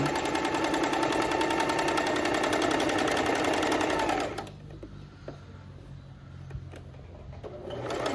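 A domestic sewing machine stitches knit fabric in a fast, steady whir for about four seconds, run as if sewing on elastic, then stops, leaving quiet handling noise and faint room sound.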